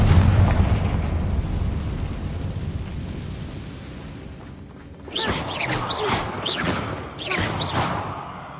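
A Confringo spell explosion in Hogwarts Legacy: a loud rumbling blast that slowly decays over several seconds, followed by crackling bursts and shimmering magical sparkle effects as the fire spell lands.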